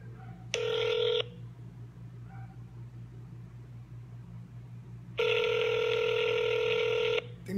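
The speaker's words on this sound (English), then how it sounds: "I'll make a call now." Telephone keypad dialing tones while placing a call, with two long bright tone bursts, one short near the start and a longer one later, over a low steady hum with quiet gaps between.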